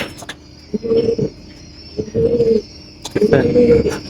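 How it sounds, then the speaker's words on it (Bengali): A breeding pigeon coos in three low, throaty bursts spaced about a second apart, close and clear over a quiet background. "এই যে আমাদের সেই কবুতরটা আমার বাসার ব্রিডিং কবুতর"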